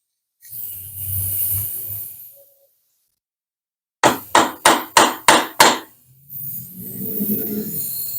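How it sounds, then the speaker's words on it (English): A hammer strikes a chisel six times in a quick, even series to dimple a Hayabusa motorcycle clutch mod, each blow a sharp close metallic knock. Quiet, low room sound comes before and after the blows. "Now I will also take my chisel and dimple that in."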